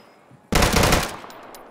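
A loud, close burst of rapid automatic gunfire from the video game Deadside erupts suddenly and rattles for about half a second before trailing off.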